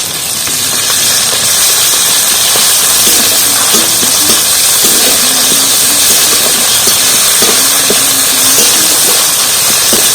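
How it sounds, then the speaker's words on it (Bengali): Ginger paste fries in a pan with shrimp, producing a loud, steady, close hiss that stays constant throughout with faint low clatters underneath. "আদাটা একটু ভালোভাবে কষিয়ে নেবো আদার গন্ধটা চলে যাবে"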